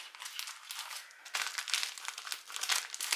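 A plastic mail baggie holding Disney merchandise is cut open, producing close, continuous crinkling and rustling of thin plastic that grows louder and more agitated partway through.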